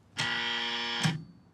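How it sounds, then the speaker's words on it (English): A game show contestant's buzzer gives one loud, steady electronic tone of just under a second, then cuts off sharply, alone against a quiet room. "I was just checking to see if my buzzer works."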